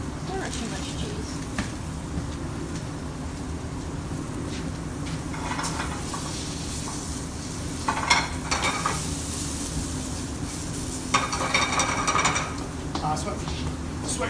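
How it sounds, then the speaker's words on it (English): Shallots and green beans sizzle steadily in a pan while being stirred, with a constant frying hiss and occasional scrapes. A voice talks over the cooking. "Sweat your shallots to basically temp or to scent."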